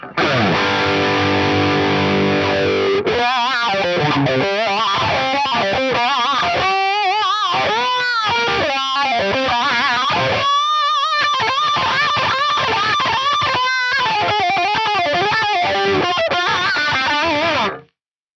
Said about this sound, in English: now I've got a wah pedal and it sounds like this